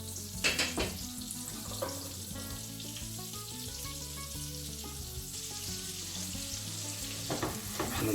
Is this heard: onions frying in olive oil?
yes